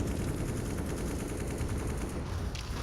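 Gunshots in CS:GO during a competitive esports match, a steady dense rattle of rapid fire filling the whole stretch at moderate loudness with no talk.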